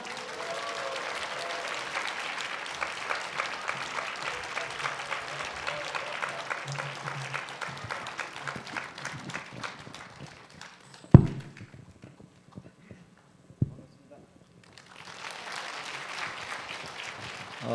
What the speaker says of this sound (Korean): 우렁찬 박수 부탁드립니다.